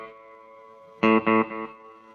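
A sustained electric guitar note through a delay pedal, then a loud struck chord followed by two quick echoing repeats that fade away.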